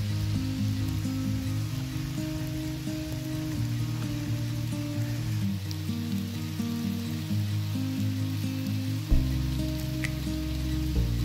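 Rain patters on the roof of a minivan camper, an even hiss of drops under a loud, steady low hum that shifts tone a couple of times.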